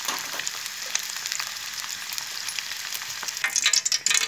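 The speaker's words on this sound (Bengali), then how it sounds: "তো আমি ডিমটা আর আলুটা ভেজে নিয়েছি" Eggs and potatoes frying in hot oil give a steady, dense hiss of sizzling, with a few crackles and brighter spitting bursts toward the end. There is no talking.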